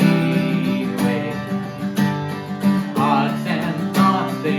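Acoustic guitar strummed through the chorus of a song, steady rhythmic chords ringing out close and clear with no voice over them.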